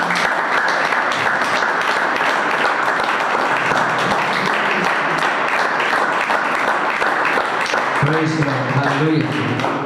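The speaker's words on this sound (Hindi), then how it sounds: "परमेश्वर की महिमा के लिए हम लोग ताली बजा सकते हैं" Congregation at Voice of God Church in Balrampur claps for God's glory, steady, loud massed applause throughout, with voices calling out over it near the end.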